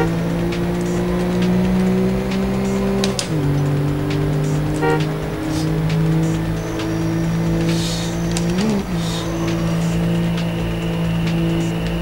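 A race car revving and accelerating hard in the PlayStation game Need for Speed: High Stakes during a night race, its loud engine whine climbing steadily with distinct gear shifts and brief tire noise.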